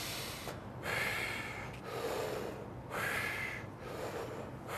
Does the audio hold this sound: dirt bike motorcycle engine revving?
no